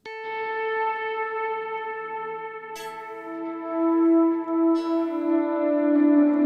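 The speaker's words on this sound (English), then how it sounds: "It takes some time before that reverb comes in. So it's like a volume swell just for the reverb." A picked electric guitar note rings out clearly with ambient reverb set to about 218 ms of pre-delay, so the wash swells in after the attack; a second note is picked midway, both sustained and alone.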